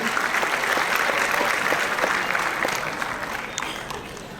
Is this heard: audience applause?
yes